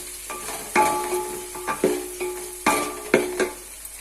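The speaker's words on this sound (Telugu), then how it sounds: "పచ్చిమిర్చి ఒక 4 వేసుకున్నానండి. ఇవి కూడా కొంచెం ఫ్రై అవ్వాలి." Four green chilies fry in a hot pan for a chicken curry, with a steady oily sizzle broken by several sharp stirring scrapes and clatters close by, no voices.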